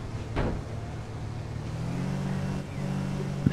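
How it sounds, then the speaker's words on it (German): Car engine in the video game APB Reloaded, a steady low drone with slight shifts in pitch, holding at moderate level with a short knock near the end. "Boah, das hört wie sau das Auto."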